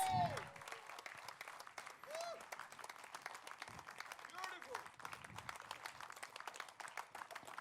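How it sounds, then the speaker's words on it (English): Audience applause at a press conference honoring a group of wrestlers, a faint, thin patter of clapping heard from a distance with voices and shouts breaking through now and then. "A huge round of applause for these warriors"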